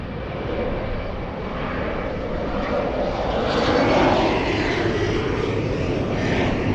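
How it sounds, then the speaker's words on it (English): An airliner taking off from runway 24 left at Los Angeles International Airport, a loud sustained engine roar that swells toward the middle and holds, heard alone without talk. "Runway 24 left, clear for takeoff."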